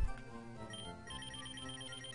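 A mobile phone ringing in a Pokémon Glazed game: a quiet electronic ringtone with repeating tonal beeps in a steady pattern, heard alone without talk.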